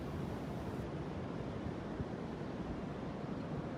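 Ocean waves wash in continuously at tide pools in La Jolla, California, heard as a steady broadband rush of surf blended with wind noise, with no distinct breaks between waves.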